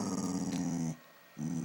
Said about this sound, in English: It's an angry pup. It's a very angry puppy.